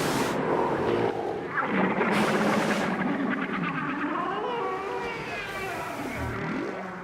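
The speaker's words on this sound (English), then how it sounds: "studied these particular whales for so long that he can often tell who's vocalizing just by listening" Humpback whales vocalize underwater in long, sweeping moans and rising, falling calls that overlap in a dense, echoing wash with constant low noise beneath.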